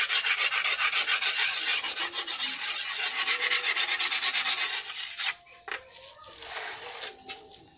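A metal egrek harvesting blade is rasped steadily with a file or rough sharpening surface, producing loud, rhythmic scraping strokes that break off near the end into scattered softer scrapes and handling noises.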